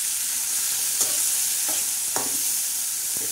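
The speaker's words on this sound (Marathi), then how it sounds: "मस्तपैकी असं हलवून घेणार आहोत, कारण कांदा नरम झाला पाहिजे थोडा." Chopped onions sprinkled with salt sizzle steadily in a hot pan, broken by a few soft scraping stirs of a spoon against the metal, close and fairly loud with no voices.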